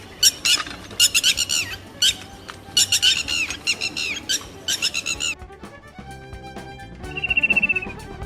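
A white-throated kingfisher near its nest gives loud, harsh squawking calls in quick repeated bursts, close and clear, then falls quiet before a short trilling note near the end.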